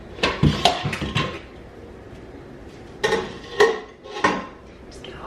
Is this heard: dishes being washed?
yes